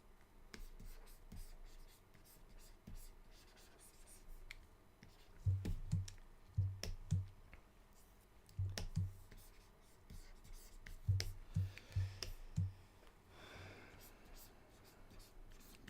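A pen sketches quickly on paper in short scratchy bursts and clustered strokes, close and soft, with quiet pauses in between.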